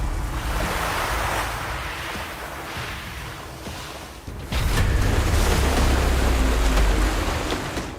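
Sea waves surge and wash loudly and continuously near the shore, with wind buffeting the microphone. The roar swells noticeably stronger about halfway through.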